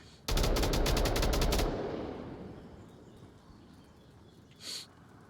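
A rapid burst of automatic gunfire in the VR shooter Onward during a competitive match, a loud sustained volley of about a second and a half that cuts off and leaves a fading echo, then a brief faint noise near the end.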